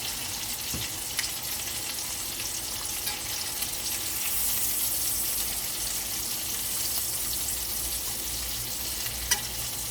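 Shrimp fry in a pan with a steady, bright sizzle that holds evenly for about ten seconds and swells slightly partway through, close and continuous with no talking.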